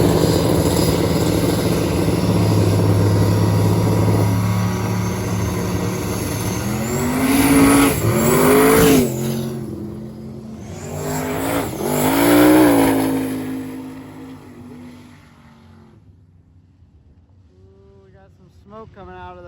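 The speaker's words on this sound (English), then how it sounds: "we got all of our fast cars out here" Fast cars race on a circuit: loud engines rise and fall as the cars pass close by, with the roar swelling and fading in waves before tapering off toward the end.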